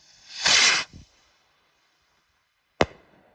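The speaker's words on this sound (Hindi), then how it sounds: "अब हमारे पास ड्रैगन स्लेयर ब्रांड के बड़े बम ब्रोकेड हैं" A Dragon Slayer brand big bomb brocade firework goes off outdoors with a loud whooshing hiss and a short crackle, followed after a quiet gap by one sharp, loud bang.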